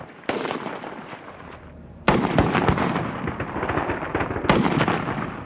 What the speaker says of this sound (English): shoot 20 rounds from the prone unsupported position